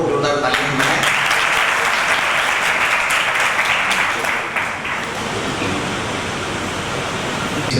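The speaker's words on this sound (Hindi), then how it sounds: "एक बार और जोरदार तालियां बनाएं" Audience at a Jain religious discourse in Itarsi, Madhya Pradesh, gives loud, sustained applause that runs steadily for the full stretch and thins slightly near the end.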